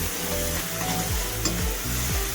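A paste of garlic, green chili and ginger sautéing in hot oil with a pinch of asafoetida, a loud, close, continuous sizzle broken by the scrape of stirring, for a spinach and potato curry.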